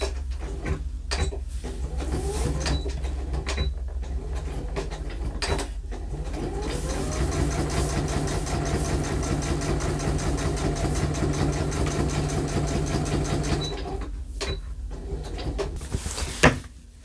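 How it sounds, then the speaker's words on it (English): A sewing machine stitches all the way around a tote bag, a steady rapid mechanical whirr running for several seconds between brief stops and fabric handling clicks. "Go ahead and sew all the way around."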